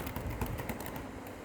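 Soft, quick keystrokes on a keyboard tap out a search in a shopping app, faint and close, a brief flurry of clicks.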